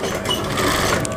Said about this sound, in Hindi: ठीक है, यहाँ तक इसे सिलाई लगा लेंगे।